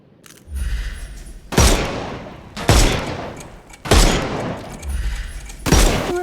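Four loud, sharp gunshots from the video game Sherlock Holmes Chapter One, spaced about a second apart, each with a booming crack and decaying tail over a low ambient hum.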